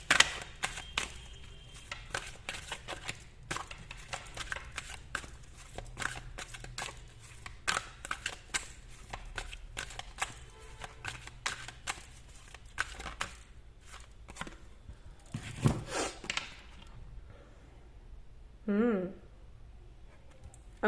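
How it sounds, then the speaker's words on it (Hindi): A deck of cards being shuffled by hand in a tarot-style reading, with dense, rapid riffling flutters and crisp snaps running steadily for about fifteen seconds, then a short pause and a final brief rustle, while a voice talks quietly. "ऐसे करके शफल करना है।"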